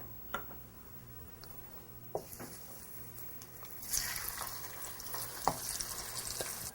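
Soft sizzling and frying of veal shanks searing in olive oil in a saucepan, with occasional clinks and scrapes of the pan, fairly quiet and close.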